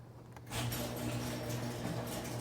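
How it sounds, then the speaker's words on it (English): A steady mechanical whirring and rumbling starts after a brief pause and runs on evenly, like a motorized garage door moving along its track. "Let's open the garage door all the way."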